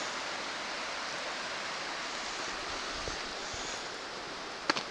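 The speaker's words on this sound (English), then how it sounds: "River Cree." Steady broadband rush of the River Cree flowing along a Southern Upland Way walking route, a continuous even wash of moving water with a small knock near the end.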